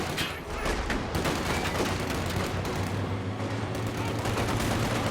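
Dense, sustained gunfire in a video game battle, a steady rattle of overlapping shots and bursts with some voice chatter mixed underneath.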